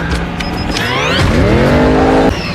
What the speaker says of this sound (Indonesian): Untungnya mobil-mobil tua ini sudah dilengkapi dengan nos, membalikan keadaan hingga Brixton kewalahan